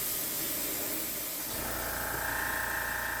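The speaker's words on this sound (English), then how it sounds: "this spraying actually takes just over 20 minutes" A sprayer hisses steadily while spraying the wooden underside of a model ship, a continuous close hiss that grows brighter and louder partway through.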